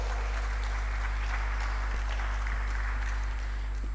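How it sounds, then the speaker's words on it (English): Applause from an audience at a safeguarding grand finale event, a steady broadband wash of clapping sustained for several seconds over a constant low hum, moderately distant and even in level. "Please give her a round of applause."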